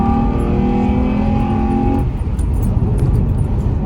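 A 6th-generation Honda Accord engine fitted with a ported throttle body revs loudly nearby, with a steady tonal drone that drops abruptly midway into a rougher, lower idle rumble.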